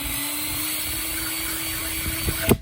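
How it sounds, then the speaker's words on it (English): A steady, high-pitched whine of a power drill running continuously while drilling a drain hole in a rusted muffler exhaust pipe, ending in a brief rougher burst as the bit bites through. "So I'm going to drill this out nice."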